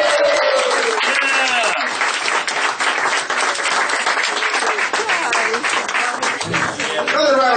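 An audience at a farewell tour event breaks into loud, sustained applause that fills the whole stretch with dense clapping, with some voices mixed in.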